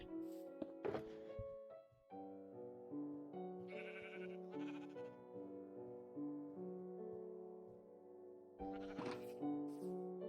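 Minecraft sheep bleating in a blocky game world, several wavering bleats in a row, some overlapping, with soft thunks between calls and no talking.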